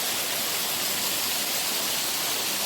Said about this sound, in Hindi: ऊपर से गिरता हुआ ये झरना कितना मनोहर लग रहा है।